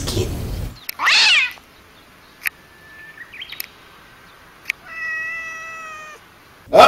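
A cat meows several times, short calls separated by quiet gaps, close and fairly loud with a few sharp clicks between them.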